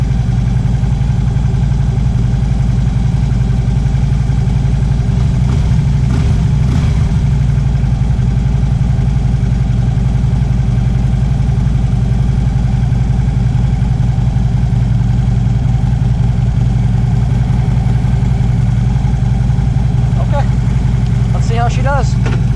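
A Harley-Davidson Road King motorcycle on a short test ride after a clutch adjustment, its engine rumbling loud and steady throughout while a rider talks over it.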